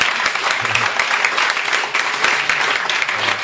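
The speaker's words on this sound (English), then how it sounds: "let's give him a round of applause" An audience applauds an author at the close of a Skylight Books reading about electronic dance music; steady, dense clapping fills the room for several seconds at close range, with no talking over it.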